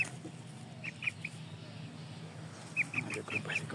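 A mother hen outdoors gives a few short, quiet clucks, a brief cluster early and then a quicker run of clucks near the end, distant and faint.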